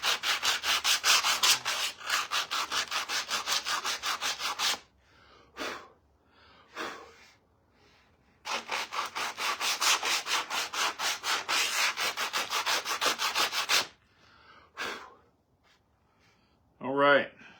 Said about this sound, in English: big aggressive sander that I've been using, that disc sander